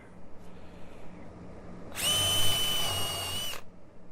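A DeWalt power drill drives screws into a rain screen structure, whirring loudly for about a second and a half in one steady burst after quiet background noise.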